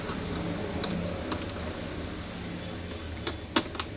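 Parts of an HP ProBook 4420s laptop being taken apart as its keyboard and frame come off: a few light plastic clicks and ticks over a steady low room hum, with no talking.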